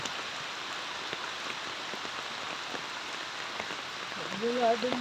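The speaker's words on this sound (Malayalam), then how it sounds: "മഴ, അടിപൊളി മഴ, അടിപൊളി മഴയായി." Steady heavy rain falls on a stream in a continuous close hiss with fine drop patter, and a voice cuts in briefly at the end.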